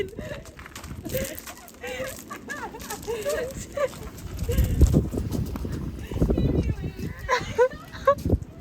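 Horses walk outdoors near hedges at a jumping yard, their hooves clip-clopping in an uneven rhythm at moderate distance, mixed with people talking throughout.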